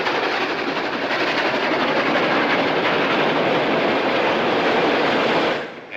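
An 1876 train runs along the railroad at speed, a loud, steady rumbling roar with faint clatter that continues unbroken and then fades abruptly at the end, with no talk.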